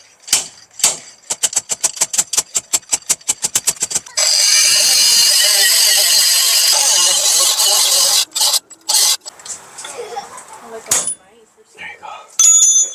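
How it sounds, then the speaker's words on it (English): A slide hammer pulls a bearing race off a Nissan Titan axle, first with a rapid series of sharp metallic strikes, then a sustained harsh grinding rasp, followed by a few scattered clanks. "slide hammer."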